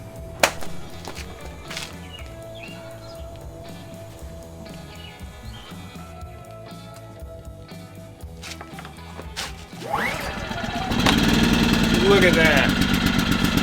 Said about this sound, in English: let's go out there and start it up.